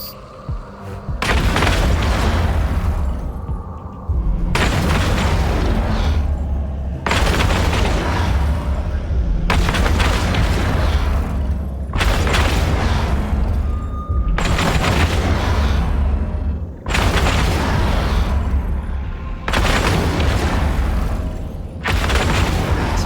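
Heavy ship weapons in EVE Online pound a cruiser-sized enemy in repeated loud booming volleys, roughly every two to three seconds, with dense sustained rumble between shots and no speech.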